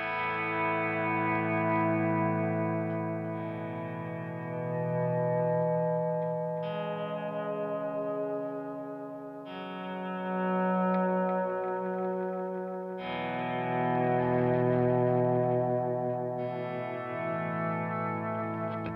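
An electric guitar through a delay pedal set so the repeats grow louder as the volume rises, making slow swelling sustained chords with echo, chorus and a little distortion that bloom and fade in long waves, alone without any talking.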